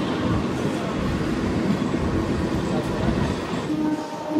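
A MEMU passenger train, number 66560, runs from Anantapur toward Bengaluru, filling the carriage with a steady, loud, unbroken rumble of wheels and motion throughout.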